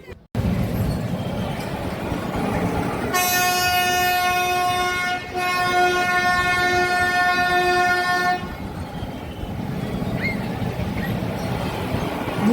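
The Yelagiri toy train runs with a steady rumbling roll and then gives a long, loud, sustained horn blast of several seconds, followed by continued running noise.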